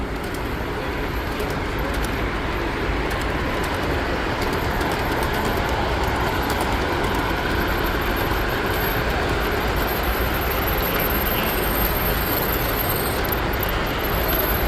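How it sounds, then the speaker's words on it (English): A model Pennsylvania Railroad train runs along track at a toy train show, with a steady, loud rolling rumble and faint clicking wheels amid hall ambience. "Here comes the Pennsylvania Railroad again."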